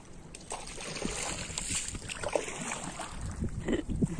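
A rowboat on Phewa Lake in Pokhara moves under oars, with gentle water splashes and lapping amid steady wind noise buffeting the microphone.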